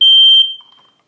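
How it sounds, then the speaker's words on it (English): A smoke alarm in a poorly ventilated half-basement apartment kitchen, set off during bread baking, gives one loud, piercing high beep lasting under half a second, then fades quickly into silence. "my smoke alarm goes off easily"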